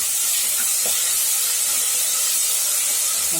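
Onions frying with a little salt in a pan, cooking toward golden, give a continuous loud hiss and sizzle, steady and close throughout with no talking.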